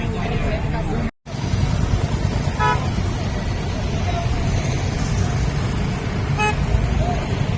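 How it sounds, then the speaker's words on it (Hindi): Busy city road traffic in Hyderabad, with a dense roar of engines and crowd babble and two short car horn toots cutting through, as people talk loudly nearby. "ट्रैफिक"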